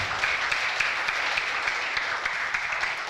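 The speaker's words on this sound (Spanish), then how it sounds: "Denle un aplauso de alabanza al Señor" A church congregation at a Spanish-language service applauds in praise, a steady, dense wash of clapping that holds evenly throughout.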